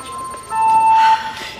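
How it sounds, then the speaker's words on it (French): A single electronic bell or chime tone rings steadily for about half a second in an office break setting, clear and fairly loud over a faint background, with no talk. "Ignorez la cloche là, que vous venez d'entendre."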